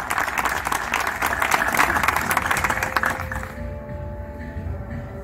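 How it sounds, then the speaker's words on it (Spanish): Audience applause at a town council event, with dense clapping at steady strength that fades after about three seconds into quieter room tone with a faint tone. "Fuerte el aplauso para ellas."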